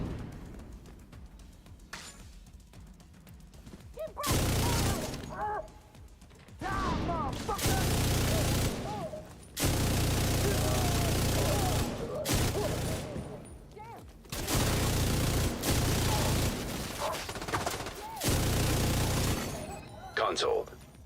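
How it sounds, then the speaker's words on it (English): Bursts of automatic gunfire from The Division video game, aimed at enemies' shields; loud sustained volleys in several long stretches separated by brief pauses, with someone talking over parts of it. "shooting them on the shield"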